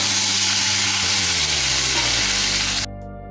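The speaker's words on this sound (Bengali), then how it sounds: "আমি এখানে আলু আর ফুলকপি ভাজাটা বসিয়ে দিয়েছি।" Potato and cauliflower pieces fry in a wok with a steady, loud sizzle that fills the clip, then drops off sharply near the end, leaving a quieter low hum.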